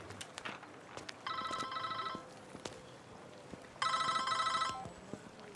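A telephone rings in two electronic trilling bursts, the second louder and higher, over a quiet background with scattered soft knocks.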